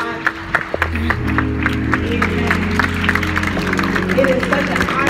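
A church congregation at a Baptist multicultural church claps for the pastor, rhythmic group clapping over sustained organ or keyboard chords, with some cheering voices mixed in.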